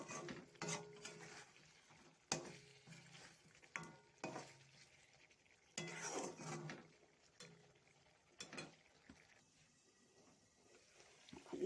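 A spoon stirs a chicken dish in a pot with milk and sugar, giving soft, irregular scraping and sizzling strokes at low volume with short pauses between them.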